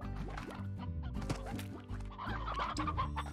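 Chickens clucking in the video game Slime Rancher, steady and fairly loud among other game sounds, with no talking.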